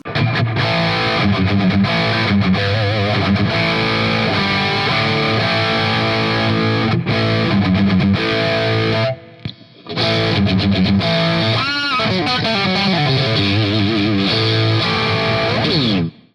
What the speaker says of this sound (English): Let's add a little distortion.